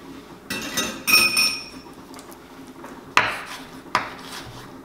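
Knife strikes on a cutting board while ingredients for Korean guksu noodle soup are chopped, giving a few separate, sharp clinking hits with quiet pauses between them.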